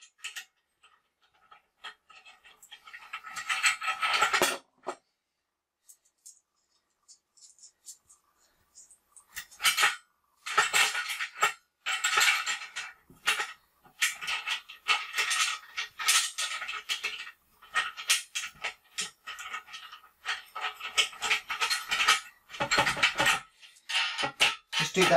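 Nuts and bolts being fitted by hand onto metal brackets of a TV stand, a scattered run of small clicks, taps and metallic rattles, close and moderately loud, with quiet pauses between bursts.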